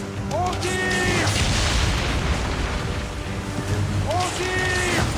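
Booming ship cannon fire in the Assassin's Creed Origins naval battle, heavy blasts under constant ocean, wind and game sound effects, with a short whistling streak near each shot.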